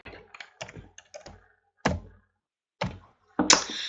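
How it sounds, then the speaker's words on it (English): Keys of a computer keyboard being tapped in short irregular clusters, a few quick clicks followed by sparse single thunks and a final louder press, close and alone. "in there then you can type"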